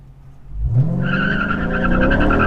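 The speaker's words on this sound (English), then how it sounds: "Big spin on that one. Yeah, major spin." A 2017 Dodge Challenger Daytona 392 launches for a 0–60 run, its tires spinning and squealing loudly and steadily as the engine roars up, close and continuous for a couple of seconds.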